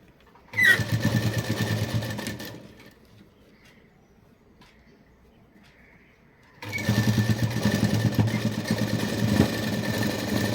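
A sewing machine runs in two bursts while stitching a net three-layer blouse seam, a close, rhythmic motor whir that pauses for several seconds in the middle before starting up again.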